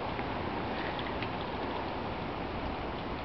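Hurricane Irene's wind blowing outside, heard as a steady, dense rushing roar that holds level throughout with no gusts standing out and no voices.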